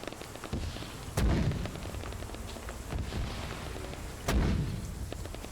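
Artillery salvo impacts in Arma 3 land as two heavy, booming blasts a few seconds apart, each followed by a rumbling tail, over a steady crackling din of distant gunfire.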